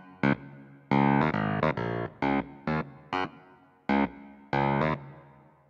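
Keyboard plays the syncopated main riff of a song, a string of short, punchy, funky staccato notes repeating in a tight groove, heard alone at moderate volume.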